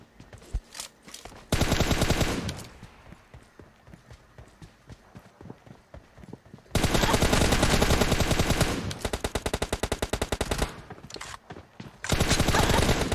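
Bursts of rapid automatic gunfire in the game PUBG Mobile: several long, loud volleys with short gaps between them, set against quieter stretches of scattered single shots.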